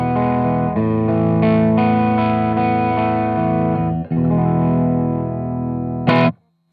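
A Fano Omnis MG6 electric guitar rings out loud, sustained chords through a Soundbox Workshop '76 fuzz and harmonic modulator pedal. A brief gap comes midway, then a final strum that is cut off abruptly.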